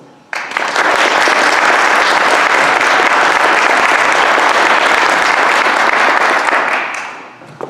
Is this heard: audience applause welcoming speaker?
yes